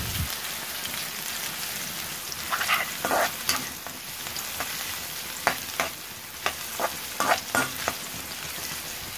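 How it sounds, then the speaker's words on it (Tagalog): Garlic and onion sautéing in cooking oil in a kawali, a soft continuous sizzle broken by a series of spatula clinks and scrapes as the pan is stirred, close by with no talk. "maglagay muna tayo sa kawali ng ating cooking oil. Then isunod natin yung ating bawang sibuyas"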